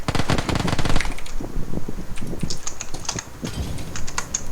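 Rapid bursts of machine-gun-like rattling, made by a voice mimicking gunfire during a PUBG Battlegrounds game, fire repeatedly in quick, choppy volleys, close and fairly loud.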